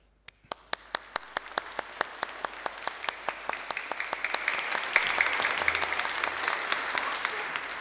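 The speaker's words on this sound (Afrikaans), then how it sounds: "kom ons klap hande" Church audience at a spring song service applauding, sharp individual claps at the start building quickly into steady, dense hand clapping that swells louder toward the end.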